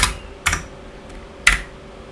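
A few sharp keystrokes on a computer keyboard while working in the Vim editor, three distinct clicks spaced unevenly over about two seconds against a quiet background.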